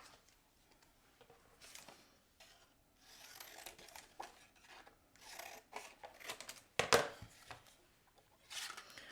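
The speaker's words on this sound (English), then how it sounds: "you will need to cut it off close to this so that you can put it in your punch" Scissors cutting paper for a handmade buckle card, a series of soft, close snips and rasping slices with pauses between them, one sharper cut standing out, and no talk.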